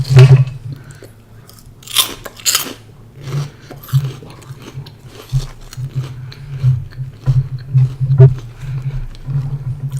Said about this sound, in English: The crunch factor.